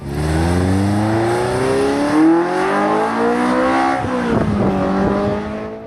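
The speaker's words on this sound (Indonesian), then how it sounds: "dan kemerduan mesin V8 dari Ferrari," A powerful Ferrari V8 sports car engine revs hard, its loud, sustained howl rising then dropping as it accelerates nearby.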